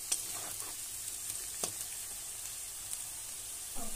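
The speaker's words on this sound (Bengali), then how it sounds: "পেঁয়াজটা নরম হয়ে আসা পর্যন্ত আমি এখানে আলুর সাথে পেঁয়াজটাকে কষে নেব" Onion and potato being fried together in a pan, a faint steady sizzle throughout with a few soft scraping stirs, quiet and without speech.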